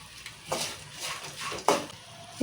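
Rice stirred with salt in a frying pan, a quiet run of scraping and soft sizzling with a few sharper clinks of a utensil against the pan over about two seconds, no talking.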